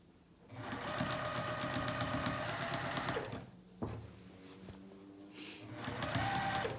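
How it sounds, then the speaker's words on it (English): A domestic sewing machine stitches pajama pants in several close bursts of rapid mechanical whirring, each run broken by brief pauses and slowing as the needle stops, including a short backstitch. "And I'm sewing down to the other circle."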